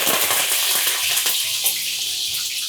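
Mustard seeds and urad dal frying in hot oil for a mixed vegetable dish: a loud, continuous sizzle with scattered crackles and pops, close by and without speech.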